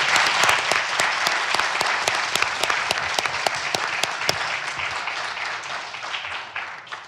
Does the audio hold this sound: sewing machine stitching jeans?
no